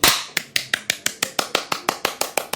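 A group of people claps hands for audio sync, about fifteen sharp, evenly spaced claps in a steady rhythm, close and crisp with no talk.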